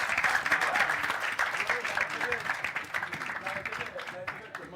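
An audience at a film screening and debate session applauds a woman who has just won a cap and T-shirt, with dense, steady clapping throughout and a voice speaking over it.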